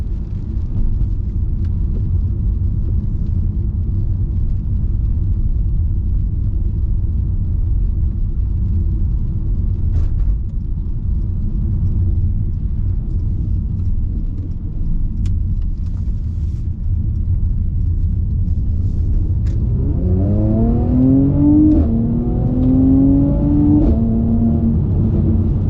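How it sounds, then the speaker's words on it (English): A 2020 Mercedes-Benz C43 AMG holds a steady, low exhaust rumble for a long stretch, then revs up sharply near the end with a rising engine note. A few faint crackles and pops are scattered through it. "the crackle and pop of that exhaust is just incredible"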